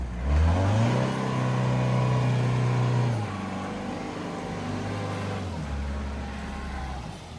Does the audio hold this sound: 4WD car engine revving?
yes